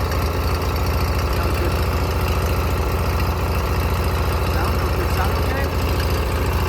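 A riding mower engine running rough as if firing on only one cylinder, a loud, steady close-up chug with a thumping, uneven knock throughout.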